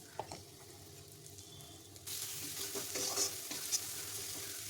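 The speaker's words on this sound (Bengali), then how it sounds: "মশলাগুলো ভালো করে ভেজে নিয়ে তার মধ্যে আমি দিয়ে দেব মশলা ধোয়া জলটা।" Spices sizzling and frying in a pan for a Bengali fish roe curry, a quiet stirring scrape at first, then a sudden steady hiss of frying that stays loud and close with no one speaking.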